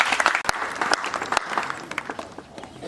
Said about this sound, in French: Est-ce qu'on peut acclamer les promoteurs pour ces efforts?